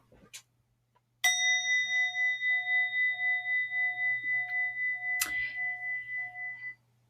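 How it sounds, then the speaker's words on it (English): A small bell is struck and rings out with a pulsing, wavering tone that fades over several seconds, with a second strike near the end. "You could ring a bell, which is another fun one to do."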